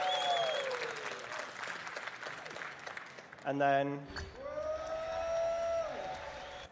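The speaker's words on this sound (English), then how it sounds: "do you want to like cheer and clap?" A crowd cheers and claps in a loud burst, with a whoop and shouting, then voices talk over lingering room noise.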